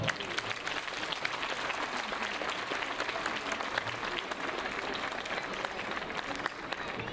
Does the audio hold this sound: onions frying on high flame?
no